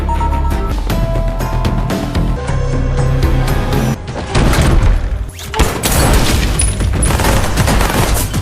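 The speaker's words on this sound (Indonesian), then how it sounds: "terjadilah baku tembak menegangkan di dalam kamar" A tense gunfight inside a room in the film Ballerina, with dense, loud bursts of gunfire and heavy impacts over a tense music bed, a short lull, then a fresh barrage.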